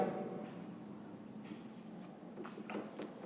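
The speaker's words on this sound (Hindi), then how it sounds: "तो चलिए इसका लिखते हैं यहाँ पे" A pen or chalk writes on a board during a Class 11 maths lesson on sets, making faint, soft scratchy strokes in short bursts against a quiet room.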